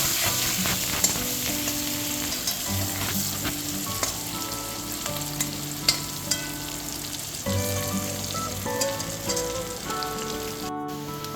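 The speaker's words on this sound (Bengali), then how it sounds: "আলুগুলোকে লাল লাল করে ভেজে নেব।" Potato pieces fry in a pan until reddish-brown, giving a dense, continuous close sizzle with crackling pops and occasional stirring, and no one speaking.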